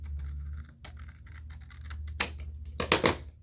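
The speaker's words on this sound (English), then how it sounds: "I'm going to cut the front of this tab. So just cut just along here." Scissors snip through a paper Happy Planner tab, a few sharp crisp cuts building toward the end, close and fairly loud over a low steady hum with no talking.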